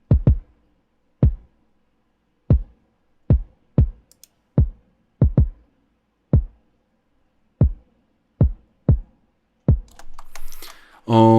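A kick drum with an added sub layer hits in a sparse, steady pattern, about a dozen deep thumps with gaps between them. Each thump is punchy and low, and a brief burst of other music comes in at the end.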